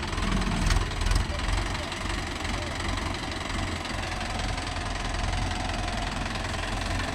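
A Mahindra Yuvo Tech Plus 585 DI tractor with cage wheels runs steadily in a field, its loud, continuous diesel rumble knocking evenly at close range throughout.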